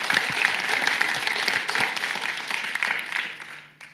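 Applause from a conference audience fills a hall at the UCL Leaders 2022 conference, a dense, steady wash of many hands clapping that holds throughout and thins toward the end.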